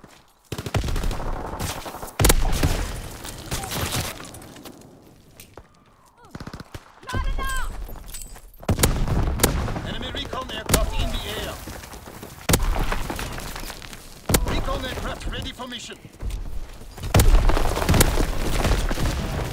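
Artillery barrage in a game: repeated heavy booms and gunfire bursts spread across the scene, some near and loud, others duller, with a voice speaking between the blasts.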